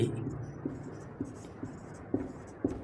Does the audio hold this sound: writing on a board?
yes